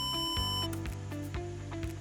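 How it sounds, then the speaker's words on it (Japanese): A Dornier 228 stall warning test in Microsoft Flight Simulator 2024: a steady electronic warning tone sounds alongside a cockpit hum and a series of rhythmic clicking pulses, close and clear, with no voices. "失速警報"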